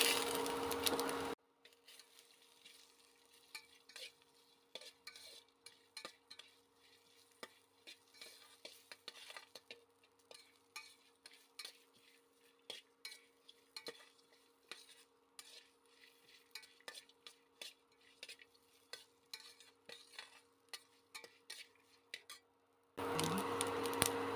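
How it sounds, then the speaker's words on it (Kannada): Grated coconut and cumin fry in a pan while a spoon stirs, making quiet, repeated scraping and tapping strokes over a faint sizzle, with louder bursts of frying noise at the start and end. "ಈಗ ಕಾಯಿ ಫ್ರೈ ಆಗಿದೆ"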